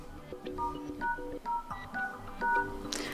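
Keypad tones from a Xiaomi Mi 11 Lite 5G phone dialer as *#06# is entered: a short run of distinct beeps at close range, evenly spaced, each with a different pitch pair.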